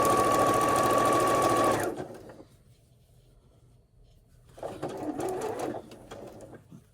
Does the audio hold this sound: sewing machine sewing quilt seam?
yes